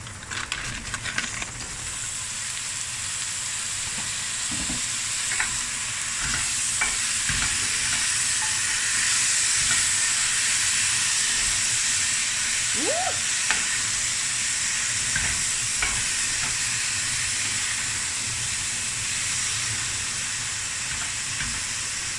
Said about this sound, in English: now I'm going to add the prawns